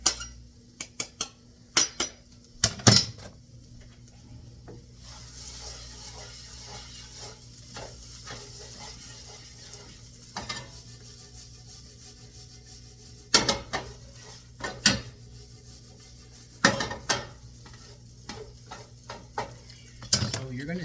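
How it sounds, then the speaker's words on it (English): Garlic being stirred into Potatoes O'Brien in a pan, with scattered scraping and clinking of a utensil against the pan over a soft background hiss, including a few sharper knocks. "I just need to add it in, stir it up."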